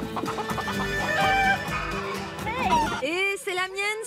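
Hens cluck and squawk while someone tries to catch them, giving a run of agitated, close-up clucks that rise near the end. Voices talk over the birds.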